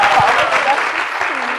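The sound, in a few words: audience applause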